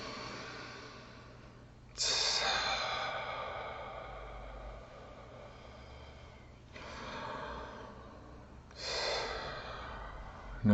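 Slow, deep breaths during guided meditation, several long airy inhales and exhales close to the microphone, separated by quiet pauses, with no talking.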